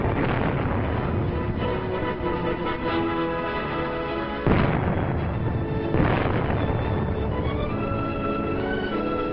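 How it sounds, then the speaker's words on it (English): Explosive charges detonate inside the holds of a long line of old ships scuttled to form a wartime breakwater, a continuous rumbling roar with heavy booming blasts breaking through, loud and unbroken, with no voices. "Then, at a signal, the charges were exploded."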